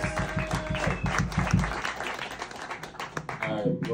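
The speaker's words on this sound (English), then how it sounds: "How about another round of applause for" Concert audience claps for several seconds, a close, dense patter of hands over a low musical rumble that fades out toward the end.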